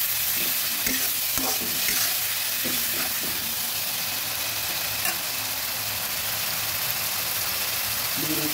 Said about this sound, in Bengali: ভালোভাবে নেড়ে ভেজে নেব।